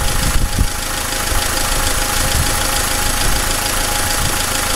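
A diesel car engine idles steadily during injector cleaning, a loud, close, continuous low rumble with a faint knocking texture and no voices.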